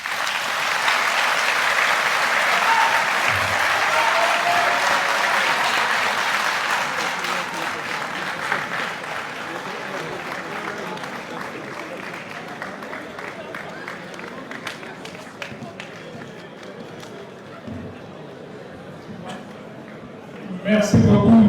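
Audience applause rings out after a formal speech ends, a sustained, fairly loud wash of clapping that gradually thins and fades, with a few stray claps and some crowd noise near the end.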